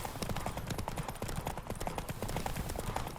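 Hooves of a galloping horse in a race in The Witcher 3 drum in a quick, continuous rhythm, loud and close, over a dense wash of rushing air and game noise.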